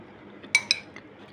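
A metal utensil clinks twice against a pot while chickpea curry is stirred, two bright taps close together followed by a faint softer knock.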